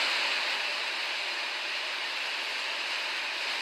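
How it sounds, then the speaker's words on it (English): Steady broadband rush of flowing water, even and continuous throughout, fairly faint with no voices or other sounds. "What does rushing water sound like?"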